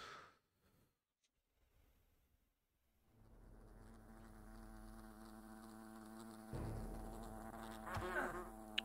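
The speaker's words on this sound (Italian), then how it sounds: "Le vespe che stanno disintegrando praticamente i poveri cittadini" Wasps buzzing in the Fable The Lost Chapters video game, starting after a near-silent opening, then a steady layered drone that swells louder toward the end, with a sharp sound near the close.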